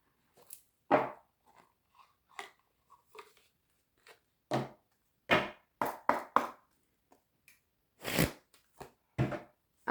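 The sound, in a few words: tarot cards being shuffled and drawn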